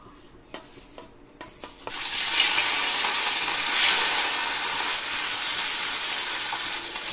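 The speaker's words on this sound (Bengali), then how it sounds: "তো মাছটাকে আমি ভেজে নিব।" Rohu fish coated in salt and turmeric drops into hot mustard oil after a few soft knocks, bursting into a loud, sustained hissing sizzle that stays close and even.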